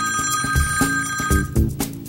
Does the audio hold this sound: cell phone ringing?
yes